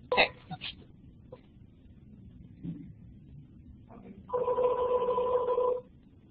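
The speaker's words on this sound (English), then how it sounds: "Let me mute that phone." A telephone rings once in a steady electronic burst lasting about a second and a half, loud and near, after a few scattered small noises and breaths.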